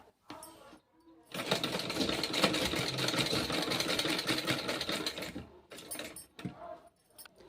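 A domestic sewing machine stitches blouse lining fabric in one steady run of about four seconds, loud and close, framed by brief handling noises before and after.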